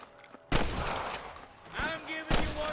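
Sniper gunfire in Red Dead Redemption: two loud, close rifle blasts spaced about two seconds apart, each with a long rolling echo, under a voice shouting in between.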